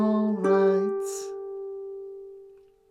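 Fingerstyle ukulele picking a phrase from a song, a few plucked notes near the start ringing out into one sustained, slowly fading tone, close and clear with no voice.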